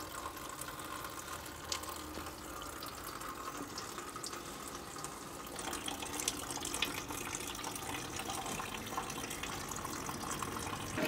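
Wort from the mash runs off and pours steadily into a Brewzilla kettle during a batch-sparge brew day, giving a continuous trickling, splashing liquid sound that grows slightly fuller partway through, with no voices.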